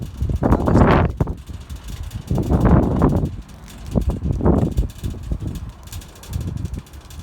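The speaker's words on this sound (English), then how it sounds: "Oh, the wind." Strong gusts batter the microphone in a parking lot on a very windy day, roaring in surges that rise and fall with no voices heard.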